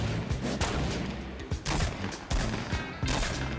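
Shotgun blasts ring out in a Fortnite match, a quick run of sharp, loud reports spaced a second or so apart over busy game noise.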